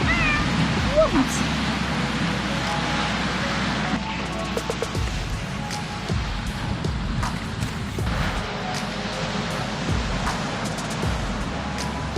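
A cat meows faintly a few times on a beach at Lynyard Cay while surf washes steadily in the background and people speak nearby.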